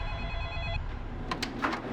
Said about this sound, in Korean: 전화가 왔었어요.